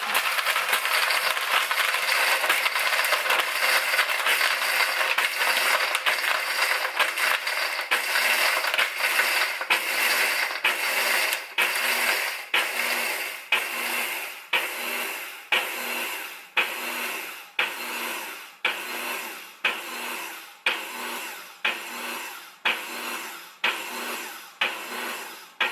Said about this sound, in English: Turn the blender on and choose crush ice, and it will run automatically for 30 seconds